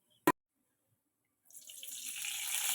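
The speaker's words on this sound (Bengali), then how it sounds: "এবার একটু জল দিয়ে দিলাম" Water poured into a cooking pot in a home kitchen, a steady rising splash and rush that starts after a short click and continues alone, fairly close.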